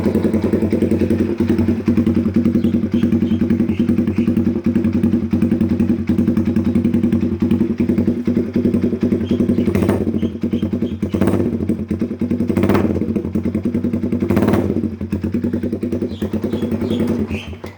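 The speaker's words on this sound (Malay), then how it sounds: "So exhaust ni baru pasang dekat Y15" A Yamaha Y15 motorcycle with a newly fitted Zr Racing aftermarket exhaust idles loudly and steadily, with a few short revs blipping up near the end and no talking.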